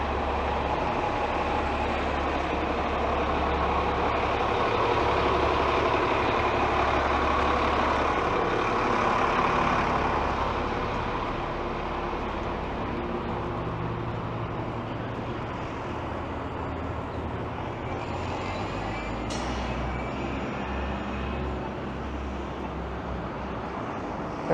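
A TTC shuttle bus idles and pulls away at a Toronto stop amid street traffic, its heavy engine rumble swelling and fading at mid distance, with a brief hiss of air brakes near the end.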